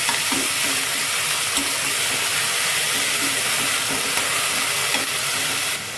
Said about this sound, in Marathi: शेपूची भाजी पण मस्त भाजून घ्यायची आहे